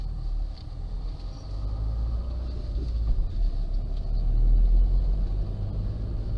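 Steady low road rumble from passing cars, swelling gently as vehicles go by at a distance outdoors, with wind noise and no talk.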